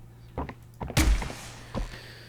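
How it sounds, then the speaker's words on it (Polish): A door opening in the video game Poppy Playtime Chapter 3, a heavy mechanical thunk with a short slide, preceded by lighter taps and followed by a softer knock over a low steady hum. "to są drzwi"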